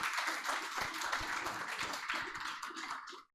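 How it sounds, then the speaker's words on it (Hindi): Audience applause welcoming staff at a celebration event for a chemistry academy, lively close clapping from a crowd that runs steadily before cutting off abruptly. "इन सबका तालियों से स्वागत कीजिए"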